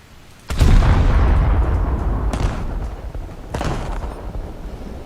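Battleship guns in the War Thunder naval video game fire with a sudden deep boom that rumbles on for seconds. Two more sharp blasts follow about three and four seconds in, loud and close, with no talk.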